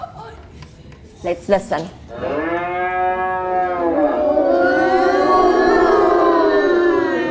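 A recorded cow moos in one long, loud, drawn-out call that rises and wavers, following a few brief spoken words.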